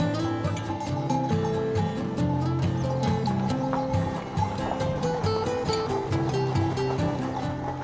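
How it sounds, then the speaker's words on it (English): Lusitano mares and foals being brought in together at a stud farm, their hooves clopping in a steady, busy clatter, with an occasional whinny over a constant tonal background. "The horses are all being brought in today, and what a sight it is to see a large group of mares and foals heading in together."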